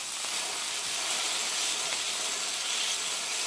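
Steak sizzling on a hibachi griddle, a constant broad hiss that holds steady and loud throughout with no talking.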